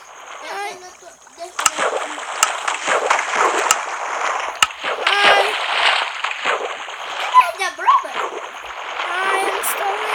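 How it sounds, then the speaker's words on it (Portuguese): Water splashes and sloshes repeatedly while a player climbs a waterfall in Minecraft, a busy stream of splatter bursts with voices talking over it throughout. "Tô subindo na cachoeira."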